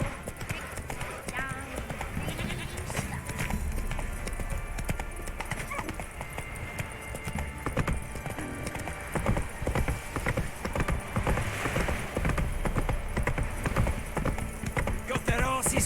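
Roach, Geralt's horse in The Witcher 3: Wild Hunt, gallops with steady, close clip-clopping hooves, joined now and then by a whinny, while game music and characters' voices carry on underneath.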